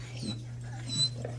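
A dog whimpers softly in a couple of short, high, whiny bursts over a steady low hum, close by and fairly quiet.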